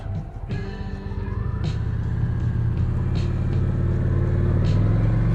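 A motorcycle braking to a stop on its rear brake alone during a low-traction stopping exercise, engine rumble loud and steady throughout with a low drone, close by and no voices.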